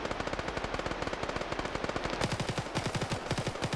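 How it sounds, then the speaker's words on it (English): Automatic machine-gun fire rattles during a military video game PvP match. Rapid, evenly spaced shots run for the whole clip without a break and grow louder and heavier toward the end. No one speaks. "Just have a massive amount of gunfire coming out."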